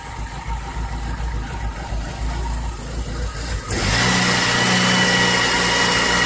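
A Chevrolet Cavalier engine with injector trouble idles close and somewhat unevenly with a low, pulsing rumble, then swells to a louder, steadier, higher running tone partway through. No one speaks.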